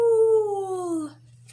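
A person imitates a wolf howl, one long sustained falling tone lasting about a second, close and loud, with a faint low hum underneath and a brief soft noise at the end.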